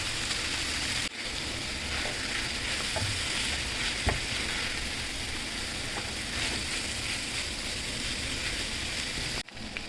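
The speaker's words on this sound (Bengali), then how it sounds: "তো মাছটা প্রায় ভাজা হয়ে আসছে" Steady sizzling of fish and onions frying in a hot pan, a continuous crackling hiss with occasional louder pops and stirring clicks, no talking.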